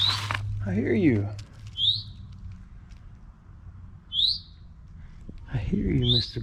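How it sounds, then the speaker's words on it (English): A loud bird chirps in short bright bursts near a city creek, repeated several times with quiet gaps between calls, while a person speaks intermittently nearby. "Oh, the bird's so loud."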